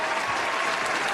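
A crowd gives a round of applause for an arriving guest, dense steady clapping filling the short moment at close range.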